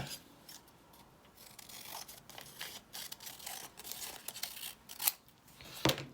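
Scissors trim a junk-mail envelope for an altered-book pocket. There are quiet, close cutting snips and paper rubbing, faint overall, with a couple of sharper clicks near the end and no talking.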